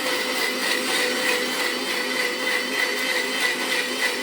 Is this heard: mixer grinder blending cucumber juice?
yes